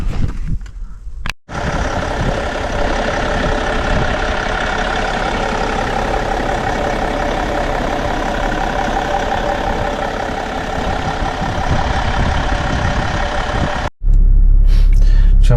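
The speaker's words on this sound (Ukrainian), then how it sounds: "Машина їде." A BMW E60 530d diesel with about 400,000 km runs steadily with road rumble for most of the stretch, broken by brief cuts near the start and end.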